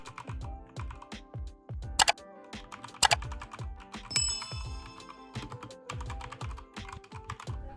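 Typing on a Keychron K2 V2 mechanical keyboard paired to an iPad: rapid, close, clacky keystrokes in an uneven rhythm, with a few sharper louder key hits standing out, and no voices.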